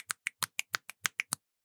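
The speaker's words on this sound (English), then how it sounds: "Finger snaps." Nine crisp finger snaps land in a quick, fairly even rhythm, each one sharp, close and isolated against silence before stopping abruptly.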